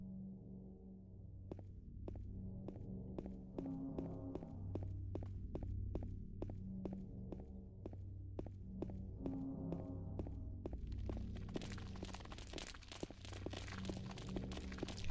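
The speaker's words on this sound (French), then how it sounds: "Des bruits de pas." Footsteps in Silent Hill 2 thud at a slow, steady pace over a low droning hum, then clatter more sharply as the ambience thickens toward the end.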